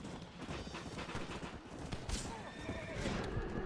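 A horse whinnies loudly over steady clip-clop hooves, with game-like ambience and voices underneath throughout, in the game Red Dead Redemption.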